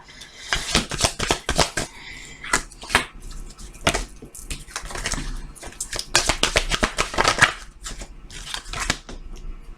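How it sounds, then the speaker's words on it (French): Tarot cards being drawn and shuffled during a reading, a run of brisk papery riffles and snapping flicks in bursts, close and fairly loud, with brief pauses between flurries. "Je vais tirer d'autres cartes, au moins une"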